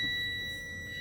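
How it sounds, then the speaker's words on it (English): Truck low air pressure warning buzzer sounding as a steady, thin electronic tone for about a second, faint over a low rumble. "the low warning buzzer light should come on or announce."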